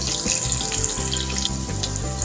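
Chopped onions and green chillies sizzle and crackle steadily in hot oil in a pan while cooking a brinjal and dried fish curry, a close, continuous frying hiss with no talk.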